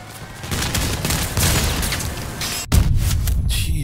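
Weapon fire and explosions rumble continuously in the Crossout vehicle combat game, including a Harpy cabin and fused Wasp missiles, with dense booming bursts and a sharp, heavy blast near the end followed by more rumbling.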